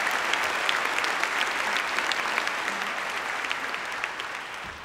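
Audience applause at the Barbara Lee & Elihu Harris lecture series, a full crowd clapping loudly and steadily, tapering slightly toward the end without voices.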